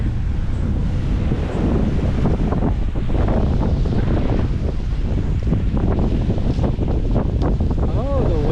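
Strong wind buffets the microphone at Waikiki beach, a loud constant rumbling roar with surf and a passing boat faintly beneath, and a voice is briefly heard near the end.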